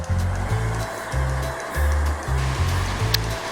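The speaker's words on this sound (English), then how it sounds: "here is the lock, so water flows into the lock" Water rushing into a river lock as its gates open to pass boats, a steady loud churning roar with low pulsing surges close by, no one talking.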